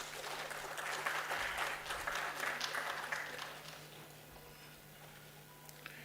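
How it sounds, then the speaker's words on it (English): An audience at a national finance conclave bursts into applause, a dense, steady wash of clapping that fills the room for about four seconds before thinning and fading out. "I think that also calls for an applause"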